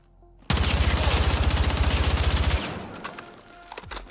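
A sustained automatic weapon burst of about two seconds fires in Battlefield 6 while recoil is controlled, loud rapid even shots, followed by fading echoes and a few faint clicks.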